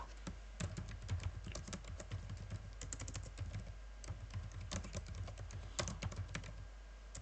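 Rapid keystrokes on a computer keyboard while text is typed into a blog page, close, crisp clicks in uneven bursts with brief pauses, no voices over them.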